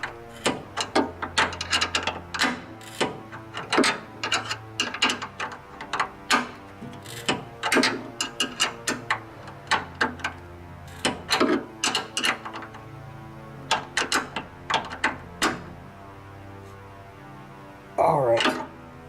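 A ratchet tightens a 12 mm bolt on a rear subframe brace, giving repeated bursts of sharp close clicking strokes with short pauses between them, and a voice briefly near the end.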